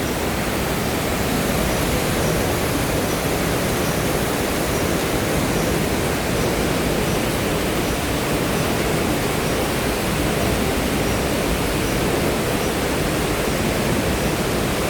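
Water pours over Tat Chao Wa waterfall in the Phu Khao Khwai hills, heard from just beneath the falls as a loud, steady, unbroken roar of rushing water that fills the whole clip.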